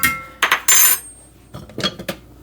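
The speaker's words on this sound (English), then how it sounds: "get those in your skillet" Chopped vegetables, cut small as for tacos, tipped into a skillet with butter: a few loud rattling clatters and scattering bursts near the start, then softer scattered taps and knocks, with no talk.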